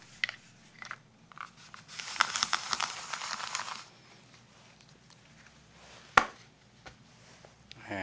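A Garret frill cutter presses and cuts through rolled fondant with a soft crunching, scraping burst lasting about two seconds, followed by a few light taps and one sharp knock.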